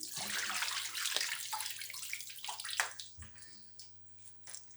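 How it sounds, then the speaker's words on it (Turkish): Something is washed under a running tap in a home kitchen, a continuous close water splash with brief shifts as items move through the stream, with no talk. "Şunu da yıkayayım."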